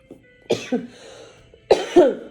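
A man with flu coughing, two clusters of harsh chesty coughs, close and loud, with a quiet pause between them.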